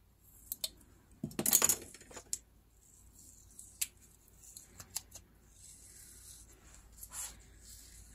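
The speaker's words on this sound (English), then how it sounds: "I'm gonna use this brown tape to finish that edge." Brown paper tape being pulled and pressed onto the edge of a paper booklet: a burst of crinkly tearing and rustling early on, followed by scattered small taps, rubs and crackles in a quiet room.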